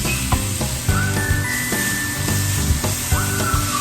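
Onion and chicken breast sauté in a pan, giving a steady loud sizzle, with irregular stirring clinks and scrapes and a thin whistling tone running through the middle, and no one speaking.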